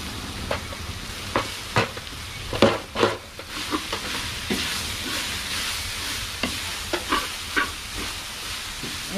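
Tilapia escabeche with papaya sautéing in a pan, a steady close sizzle broken by repeated scraping and clacking stirring strokes, loud and without talk.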